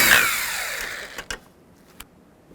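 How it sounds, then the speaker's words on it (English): A bolt is removed with a 10mm socket on a 2000-2006 Chevy Tahoe, starting with a loud close power-tool whir that winds down, followed by a few sharp metallic clicks and taps. "Take this bolt out, use a 10mm socket."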